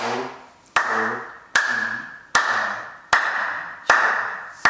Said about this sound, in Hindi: एक तो ताली लगा सकते हैं, हाथ खोलकर दूर से 100 बार लगा लो ऐसे